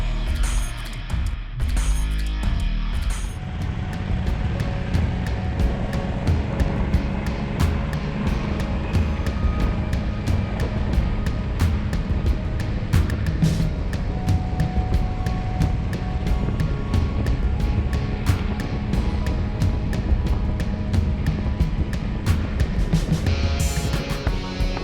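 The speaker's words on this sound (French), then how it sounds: "essayer la nouvelle Honda Africa Twin" Honda Africa Twin motorcycle riding on a regional ride through the Alps, a steady engine drone and heavy wind rush holding at constant loudness throughout, with no talk.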